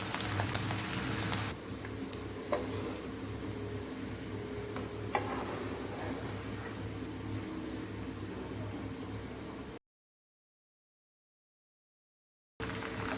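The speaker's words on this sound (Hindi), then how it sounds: "अभी हमने शिमला मिर्च डाल दी हैं जो हमने चकोर काटी हुई। अभी हम इनको थोड़ा सा फ्राई करेंगे, सौटे करेंगे" Diced bell peppers (shimla mirch) sautéing in a pan for chicken jalfrezi give off a steady, close, rain-like crackle with fine ticking spatters. It runs continuously, drops out to silence for a few seconds, then resumes. No talk is heard.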